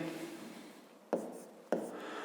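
Handwriting out the solution to a fifth-grade maths problem: quiet, soft scratching strokes broken by two sharp taps of the pen, faint and close.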